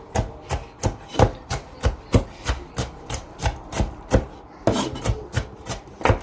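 Knife chopping the last bell pepper on a cutting board for beef goulash, a steady run of about twenty crisp, close thumps with a short pause near the end, no talking.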